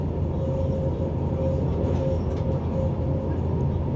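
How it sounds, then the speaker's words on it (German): A small one-car regional train runs fast along the tracks, giving a steady, loud interior rumble and rolling drone with a constant hum throughout and no speech. "Unser kleiner Zug ist ja richtig flott unterwegs."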